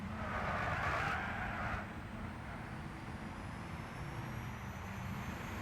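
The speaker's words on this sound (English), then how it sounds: "Welcome back to the quiet electric car races." Electric race car in the video game Gran Turismo 6, a quiet whirring drive with a brief louder tire or motor whine early on, then a low steady hum with faint rising tones.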